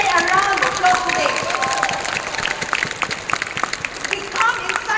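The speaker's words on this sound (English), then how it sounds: "Can we give RIWAY a round of applause today?" Audience applause at a Riway system course event in Bangkok, Thailand: a crowd claps steadily, loud at first and then thinning into scattered claps, with a little talk mixed in.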